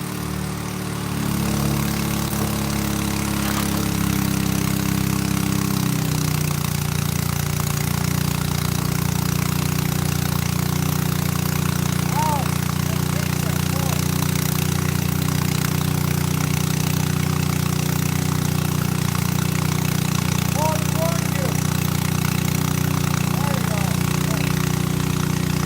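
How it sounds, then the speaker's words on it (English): Steady drone of an engine-driven water pump filling a pool outdoors, running loud and continuous for the whole stretch with a low rumbling hum and no breaks. "Pretty good pump."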